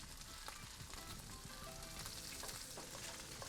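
A vegan veggie burger patty sizzles steadily on a grill after being flipped, a dense, even crackle of frying with small pops, close and alone with no talk.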